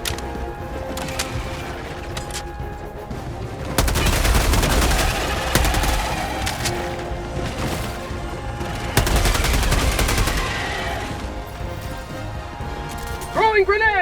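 Gunfire from weapons in Helldivers 2, dense bursts of loud shots in two heavy stretches over a constant busy battle din, with game voices talking throughout.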